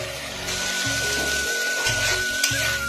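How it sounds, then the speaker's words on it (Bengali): Spices with tomato paste, turmeric and salt sautéing for katla fish, a steady close sizzle and frying hiss with scraping stirring strokes running through it. "ভালো করে কষিয়ে নিচ্ছি মশলাটা।"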